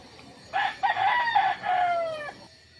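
A rooster crows loudly nearby, one long drawn-out call with a rising start and a trailing end, over quiet background.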